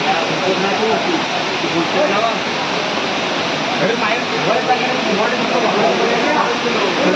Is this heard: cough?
no